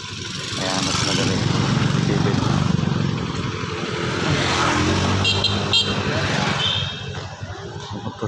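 Motorcycle engine running steadily and fairly close on a mountain trip, with a continuous revving drone that eases near the end, under some voices.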